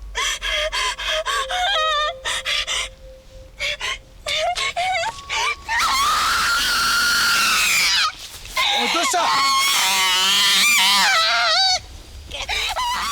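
A woman screams in a Japanese horror film, with long, loud, shrill wailing cries broken by gasps and short pauses.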